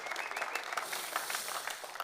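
An audience in a church leadership gathering claps for Ben, a brief, fairly faint patter of applause from a crowd, scattered hand claps running throughout.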